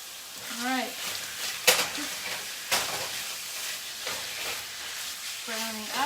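Chicken browning in a pan for a pineapple sesame ginger stir fry, a steady sizzle and hiss with occasional clanks of stirring, under someone talking intermittently nearby.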